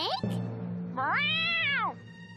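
A cartoon cat gives a single long, drawn-out meow, loud and close, preceded by a short squeak and a low background tone.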